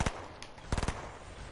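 Rapid gunfire in an online shooter game, a short opening shot followed after a pause by a quick burst of four sharp cracks, loud and close with no talk during it.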